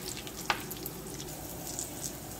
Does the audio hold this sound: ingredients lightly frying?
yes